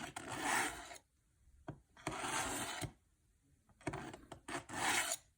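Milwaukee knife sharpener on its coarse setting grinds a dull blade in three distinct rasping passes, each about a second long, separated by quiet gaps, close and fairly soft.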